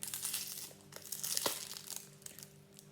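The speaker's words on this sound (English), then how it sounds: "And then peel the skin back" Papery skin being peeled back from a halved onion in a home kitchen, giving a run of close, soft crinkling and crackling with one sharper snap near the middle, no talking.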